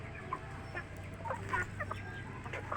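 Chickens cluck softly in short, scattered calls over a quiet low hum, fairly close but not loud.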